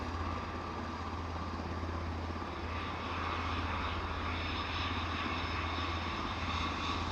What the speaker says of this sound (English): British Airways inbound, unless I'm much mistaken.